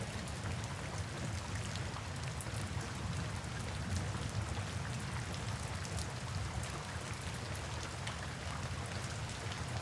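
Steady rain pattering on a surface, an even continuous hiss of drops, fairly quiet and unbroken with no voices.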